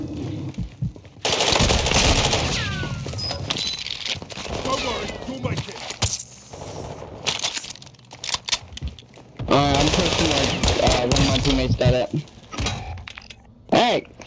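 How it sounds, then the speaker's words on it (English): Video game gunfire in a multiplayer shooter, rapid automatic bursts repeating under frequent voices talking over the action. "Hey, stop shooting at him."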